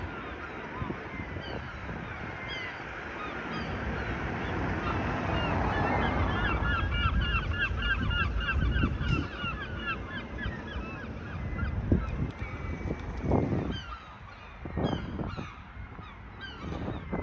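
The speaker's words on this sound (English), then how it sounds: "Those seagulls are Anubis's fault." Seagulls over a Blackpool building site on King Street call in a rising burst of honking, squawking cries that cluster and overlap at moderate distance amid wind and site noise, then thin out into scattered thumps.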